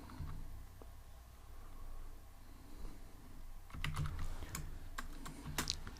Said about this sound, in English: So I'm gonna type class, I'll type public class department